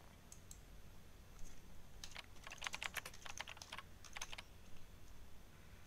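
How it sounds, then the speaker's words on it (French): Keys clatter on a computer keyboard in quick irregular bursts, near and moderately loud over a low room hum, with a dense flurry in the middle and a shorter burst after it, no talking. "je suis en train de taper sur le clavier"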